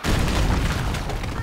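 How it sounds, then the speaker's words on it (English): A deep, loud explosion booms in the video game Overlord II, a dense rumbling blast filling the full moment with rolling low-end roar. "Forest explosions, even though they don't look all that impressive."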